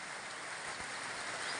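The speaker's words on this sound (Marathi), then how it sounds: "पाऊस चालू आहे." Rain falling steadily on a farm field, an even, constant broadband hiss with no voices.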